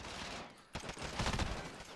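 Rapid gunfire in Call of Duty Search and Destroy, a dense burst of fairly faint shots over continuous game noise.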